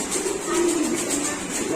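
Pigeons in a fancy pigeon loft coo softly in a low warbling drone, close and continuous, with faint chatter and background noise in the building.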